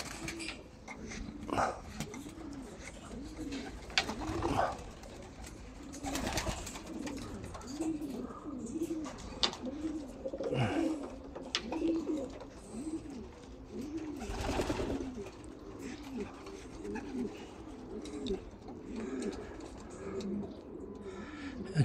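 Pigeons coo in a steady, repeating rhythm, soft and close, with scattered rustles and background noise around them.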